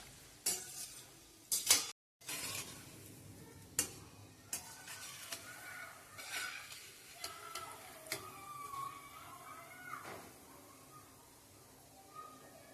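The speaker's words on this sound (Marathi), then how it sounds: "थोडेसे असे हलवून घ्यायचे." A khoya mixture for gulab jamun being stirred in a pan, with scattered scraping and clinking of a utensil against metal, sharp knocks and soft sizzling, fairly quiet and close.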